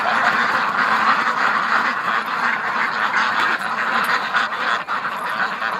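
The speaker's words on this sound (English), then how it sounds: "Are you watching the ducks?" Ducks quack in a steady, busy chorus at dusk in winter, the calls overlapping continuously at close to moderate distance with no talk.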